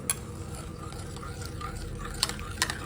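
Rock salt being stirred into water to dissolve it for ragi idiyappam dough, a soft swishing stir with a few light scrapes against the vessel, close and fairly quiet, no talk.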